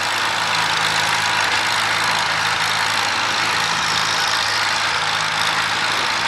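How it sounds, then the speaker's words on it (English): An International W4 tractor running on petrol paraffin at a steam rally chugs steadily nearby, a continuous low engine throb with a rhythmic pulse beneath broad outdoor noise, no talking. "Listen to this lovely petrol paraffin International W4 pairing out."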